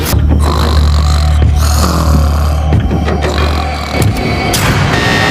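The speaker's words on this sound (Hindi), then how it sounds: "तुम्हारे खर्राटों ने सोने नहीं दिया।" A person snores loudly and close by, a rough, rumbling breathing sound that runs continuously through the stretch, with no talking.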